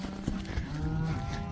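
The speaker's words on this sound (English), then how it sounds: "This is Calen's cow and calf right here" Cattle low on a farm as a cow and her calf come home from summer pasture, a faint, drawn-out moo rising over steady outdoor background noise without talk.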